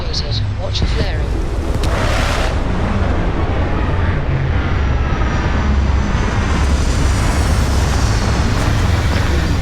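A spaceship in Starfield on Xbox Series X touches down, a loud continuous engine roar and low rumble with thrusting whooshes early on, steady and enveloping throughout.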